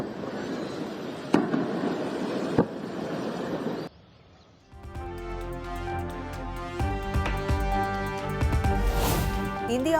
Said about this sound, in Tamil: தொடர் வெடிகுண்டு சப்தம்